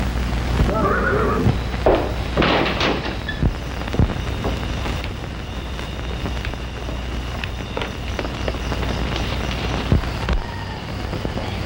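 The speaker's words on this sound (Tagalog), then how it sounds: "Labas na mga kabayo" Horses neighing and galloping outdoors in a film scene, a whinny early on over a rumble of hooves and wind noise, with scattered thuds throughout.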